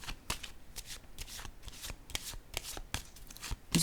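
A deck of cards being shuffled for a tarot-style card reading, a continuous run of rapid riffling flicks and snaps, close and fairly loud with no voices.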